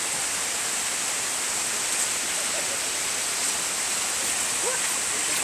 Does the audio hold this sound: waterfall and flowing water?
yes